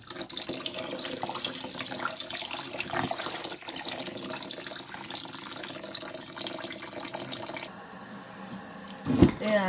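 Running tap water and splashing as flour dough is washed and kneaded in warm water to make seitan, a steady moderate pour with a louder splash near the end.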